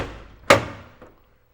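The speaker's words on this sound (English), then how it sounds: "Close the door." The metal door of an IGT Player's Edge draw poker machine swings closed with one sharp, close slam, then a fainter latch click half a second later as it settles.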